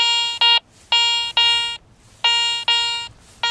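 Repeated bright electronic bell tones from a Garrett Ace 400i metal detector ringing fairly regularly over a target, loud close beeps in paired bursts over low background hiss.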